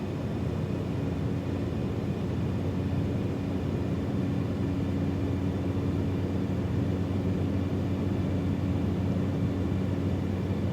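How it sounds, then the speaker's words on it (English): Steady, even drone of an aircraft engine in Microsoft Flight Simulator 2024, a constant hum with tonal lines and no variation, alone without talk. "just so I can hear my aircraft"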